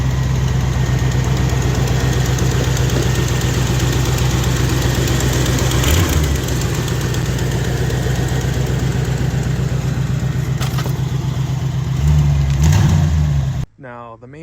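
A truck engine, freshly fitted with a replacement O'Reilly distributor, idles steadily and loudly close by with a low throbbing drone, a couple of brief revs, and a person speaking over it.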